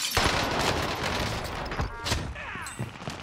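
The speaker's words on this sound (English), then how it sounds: "I'm being shot from a lot of different angles" Video game gunfire erupts in rapid bursts from several directions, sharp cracks and booms piling over one another in a dense, loud fusillade over about three seconds.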